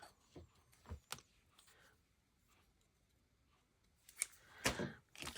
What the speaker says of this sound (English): I should trim a wee bit